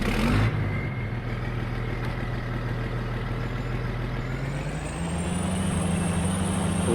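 The engine of a Claas Xerion tractor in the farming video game Farming Simulator 22, a steady loud diesel drone that rises slightly in pitch toward the end, with a short burst at the start and no talking.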